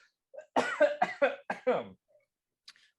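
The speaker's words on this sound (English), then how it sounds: "I got a cough." A fit of coughing close to the listener, five or six quick harsh coughs in a row, then a faint sound afterward.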